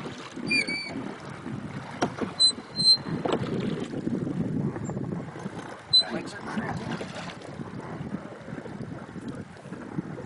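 A raft paddled on the Yakima River, with water splashing and sloshing against the boat under gusty wind buffeting the microphone, while people shout and chatter, along with a few high whistle-like tones.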